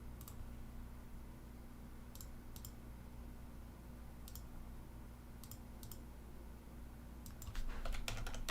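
Typing on a computer keyboard: scattered single key clicks, then a quicker cluster of taps near the end, faint and close against a steady low background hum.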